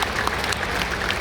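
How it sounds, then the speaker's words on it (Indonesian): A church congregation at a worship service in Surabaya applauds, dense and loud sustained clapping from many hands filling the room throughout. "Tepuk tangan lebih keras lagi."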